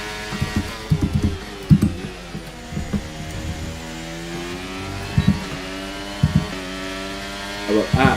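A Formula 1 car engine in the F1 23 racing game during a Canadian race, its tone rising and falling through repeated gear shifts, with sharp bursts and pops standing out over a steady engine drone.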